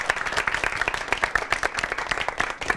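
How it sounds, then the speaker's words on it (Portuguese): Audience applause at a talk-show taping on religion, a dense run of hand claps at moderate level with crowd noise throughout, no clear speech over it. "Uma salva de palmas para a Júlia mais uma vez."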